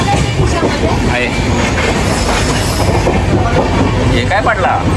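A moving passenger train on the route from Panvel to Prayagraj rattles and shakes loudly and continuously, with clattering wheels and creaking carriage noise heard from inside, while people talk.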